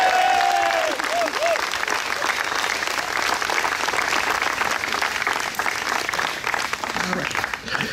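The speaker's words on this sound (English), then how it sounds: "Can we make a round of applause for our new mayor" An audience at a Muttontown swearing-in ceremony applauds the new mayor with sustained, dense clapping. It holds steady for the full stretch, with a brief voice at the very start.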